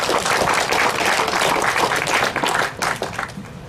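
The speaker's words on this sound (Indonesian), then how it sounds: "Tepuk tangan." Applause at a pesantren inauguration ceremony: a large crowd claps steadily and loudly throughout, thinning slightly toward the end.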